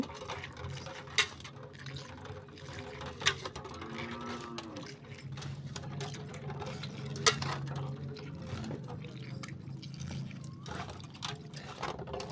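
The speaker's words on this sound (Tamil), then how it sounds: "நல்லா இது மாதிரி பிழிஞ்சு பிழிஞ்சு எடுத்துக்கோங்க" Liquid squeezed out by hand in a home kitchen, a soft, wet, trickling sound that runs on steadily at low level, with a few sharper clinks and splashes now and then.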